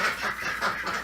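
Khaki Campbell ducks quack close by outdoors on a winter day, a quick run of several raspy calls packed into about a second, with no talk over them.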